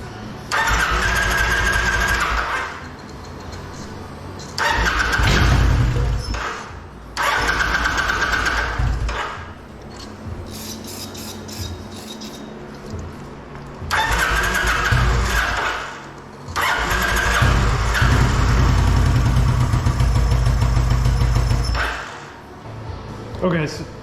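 A 2008 Kawasaki Vulcan 900 motorcycle with a fuel delivery fault cranks on contact cleaner sprayed into the intake: several loud, long bursts of starter whirring and rough engine firing, separated by short quiet gaps.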